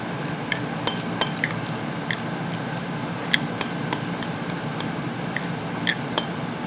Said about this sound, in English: We're going to add a couple of dollops to it and give it a stir.